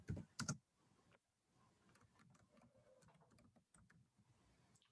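Rapid, light clicking of keys as code is typed on a computer keyboard, steady taps running close and fairly quiet after a couple of louder initial knocks, with no voices.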